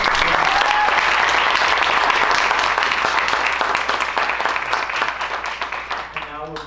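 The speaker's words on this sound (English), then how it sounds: "One more round of applause." Audience applause fills an awards ceremony hall for a scholarship event, dense and sustained clapping that gradually thins and fades toward the end.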